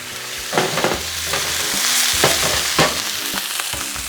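Garlic sautés in a pan for chicken piccata pasta just after a splash of wine goes in, giving a continuous bright sizzle with a few sharper stirring bursts throughout.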